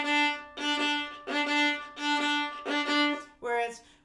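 Viola playing a dotted eighth and sixteenth note rhythm, long-short bowed pairs repeating in a steady pulse; close, clear solo tones with no other sounds.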